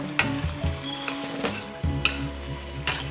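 A ladle scrapes and clinks repeatedly in a pot of rice and pepper, stirred over a steady sizzle of meat frying underneath, with uneven knocks against the pot's sides.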